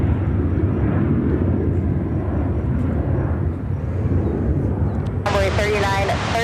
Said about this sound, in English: This is American Airlines 248, taking off to San Diego on